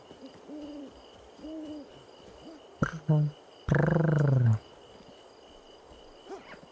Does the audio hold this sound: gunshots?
no